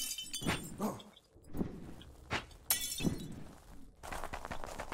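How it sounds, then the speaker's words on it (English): Objects smash one after another in the survival horror game Hush Hush, sharp breaking and shattering crashes with glassy debris, each loud and close, separated by short quiet gaps. "Collect more by shattering these things."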